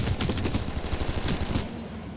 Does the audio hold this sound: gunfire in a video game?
yes